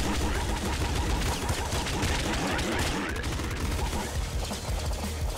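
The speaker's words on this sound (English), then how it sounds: "Ooh, pop gun." Gunfire from the pop gun in the video game Nuclear Throne rattles in a dense, unbroken barrage of rapid shots that stays loud and steady throughout.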